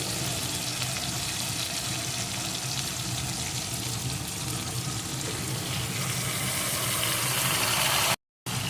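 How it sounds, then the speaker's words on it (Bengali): Cut eggplant frying in a pan for a Bengali potato, bori, eggplant and tomato fish curry, giving a steady, loud sizzle and hiss that runs unbroken through the clip with no talk. "এর ভিতরে আমি দিয়ে দেবো টুকরো করা বেগুন"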